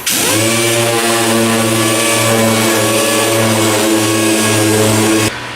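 Dual action sander fitted with 1000-grit sandpaper: a loud, steady motor whine spins up and holds a constant pitch for about five seconds, with faint rhythmic pulses from the pad, then cuts off abruptly.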